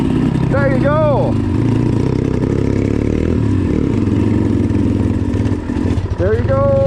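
A Thumpstar dirt bike engine runs with a steady, loud mid-pitched drone, climbing briefly in pitch near the start and again at the end, while a voice calls out over it.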